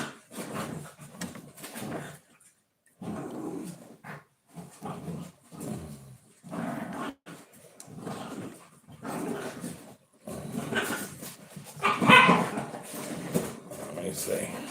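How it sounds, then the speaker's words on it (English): Dogs bark and whimper in repeated bursts with short pauses between them, fairly close and loud, mixed with a person talking over the commotion. "Dogs are going crazy."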